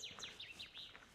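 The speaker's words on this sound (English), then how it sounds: "Chaffinch." A chaffinch sings outdoors in the distance, a faint run of quick high chirps and descending trilled notes lasting about a second, with no voices over it.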